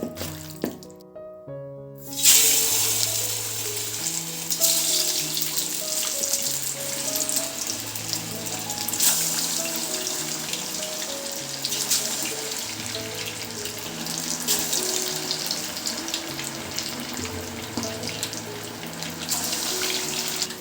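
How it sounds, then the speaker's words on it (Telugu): Chicken pieces deep frying in hot oil, a steady loud hissing sizzle that begins abruptly and carries on throughout under a faint backing melody. "డీప్ ఫ్రై సరిపోయినంత ఆయిల్ పోసుకొని వేడి చేసుకోవాలి ఇప్పుడు ఆయిల్ వచ్చేసి వేడైంది ఇప్పుడు మనము చికెన్ ముక్కల్ని ఒక్కొక్కటిగా వేసుకోవాలి"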